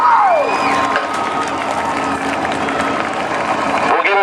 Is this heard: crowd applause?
yes